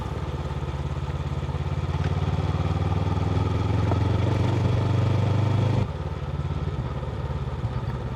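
Steady Honda CB500X motorcycle engine drone while riding on a road with loose gravel, with rumbling road noise and clatter; the engine note drops abruptly near the end.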